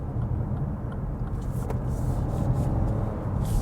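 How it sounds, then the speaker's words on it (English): A Lexus LBX small SUV accelerates hard through a corner, its engine giving a steady, loud rumble with road noise that holds throughout. "I'm going to floor it around this corner."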